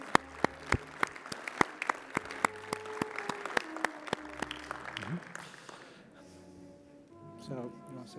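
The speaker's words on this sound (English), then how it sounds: "So if you don't mind clapping one more time for everybody who received it." Audience at an engineering society event clapping for award recipients, sharp scattered claps over a murmur of talk that fade out after about six seconds, leaving only voices.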